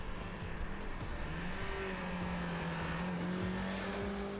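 A Volvo rally car on the Winter Challenge to Monte Carlo winds through vineyards in early morning light, its engine droning steadily up close with gently rising and falling tones over continuous road noise.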